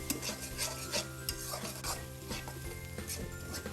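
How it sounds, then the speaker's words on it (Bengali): Sausage frying in a pan with a faint sizzle, under rhythmic clinks and scrapes of stirring, with a low hum behind. "এক মিনিটের মতো সসেসটা ভালো মতো করে ভেজে নিলাম"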